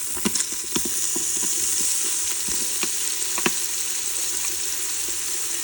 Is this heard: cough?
no